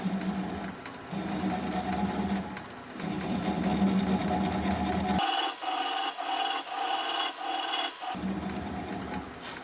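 Wood lathe turning a bowl at about 400 RPM while a swept-back bowl gouge is in use, giving a steady whirring, scraping drone with a brief drop to quieter ringing midway.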